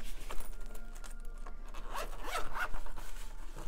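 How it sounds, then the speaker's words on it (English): Zipper running along a slot pencil case for art supplies, a brisk scratchy zip of a few seconds with small fabric rustles, close and fairly quiet with no voices. "Let's see how it zips up again."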